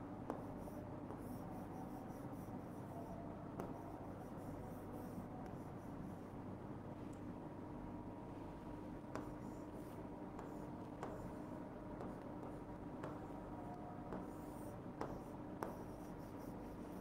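A pen writing on paper during a class 9 math lesson makes faint scratching strokes with occasional soft taps, quiet and steady against a distant background of a call to prayer.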